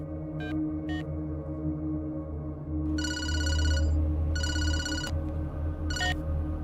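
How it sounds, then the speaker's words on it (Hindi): A phone rings in a film scene with repeated electronic bursts: two short chirps, then longer trilling rings, all over a low droning score. "चल, राजा को फोन कर"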